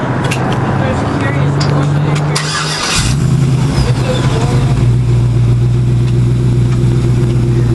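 A Jeep with an LS3 engine, no longer supercharged, cranks and catches partway through, then settles into a steady, loud, rumbling run close by.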